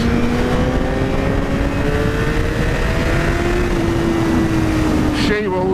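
A Suzuki GSX-R1000R sport motorcycle engine screams at high revs above 8,000 rpm, pitch climbing steadily in one sustained pull, loud and close, before a sudden shift near the end.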